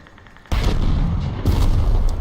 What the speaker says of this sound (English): Grenade out. Frag out.